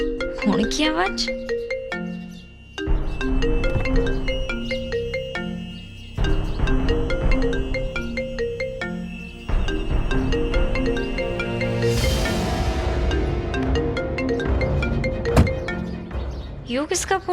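A phone rings with a repeating electronic melody that stops and restarts several times, and other sounds are heard in the gaps between the rings.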